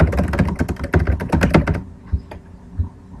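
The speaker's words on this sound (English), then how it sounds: "you would type that in here." Rapid keystrokes on a computer keyboard, a dense close run of clicks for under two seconds, then a few sparse taps fading out, no voices.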